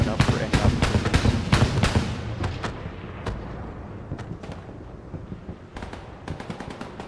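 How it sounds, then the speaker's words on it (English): Bombs from a bombing run over Hurtgen Forest in Hell Let Loose land in a rapid string of sharp, loud explosions, then thin out to scattered, more distant blasts and gunfire. "Looks like we have a bombing run coming in."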